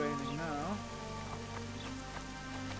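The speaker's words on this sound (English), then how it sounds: "It's really raining now." Steady rain falls in The Witcher: Assassins of Kings, a constant soft patter under a game music tone and some low ambience.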